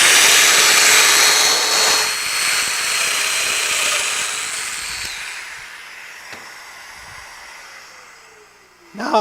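A power tool whines loudly as it plunges into a wooden round frame, holding a steady high buzz that slowly winds down toward the end, close up with no talk.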